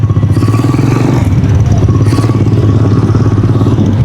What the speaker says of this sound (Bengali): এরকম করে বিচ বাইকে করে আপনারা কিন্তু রাইড দিতে পারবেন আর এনজয় করতে পারবেন